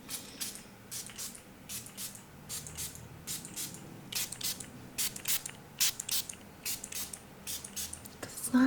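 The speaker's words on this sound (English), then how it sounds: "Cleansing spray." Short bursts of a cleansing spray mist from a pump bottle, repeated in a quick irregular series of hissy puffs, fairly faint and close, with small clicks of the nozzle between them.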